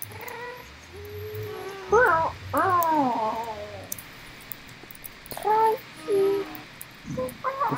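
Cats in a puzzle castle video game meow and yowl in several drawn-out, wavering calls, loud and close, spaced apart by short quiet gaps.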